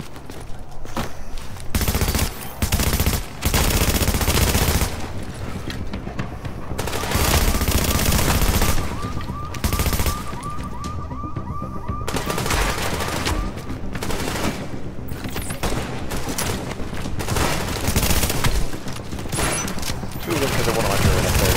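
Loud, dense video-game gunfire with rapid bursts and sustained automatic fire that barely lets up, mixed with booms, over a player's talk.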